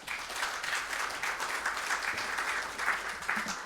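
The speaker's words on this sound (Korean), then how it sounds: "목사님 앞으로 나오실 때 큰 박수로" Steady applause from a church congregation at a morning worship service, welcoming a pastor to the front to preach. The clapping is moderate and continuous throughout, with no voices over it.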